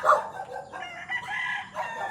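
A rooster crows loudly and close by for about two seconds, a drawn-out cock-a-doodle-doo with no talking.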